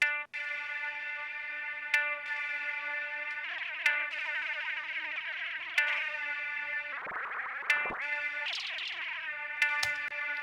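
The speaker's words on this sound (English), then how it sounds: "This is a very long reverb" A sustained synth tone drenched in a long, lush reverb from the Spaced Out effect, with short bright hits every two seconds smearing into a wide, lingering wash.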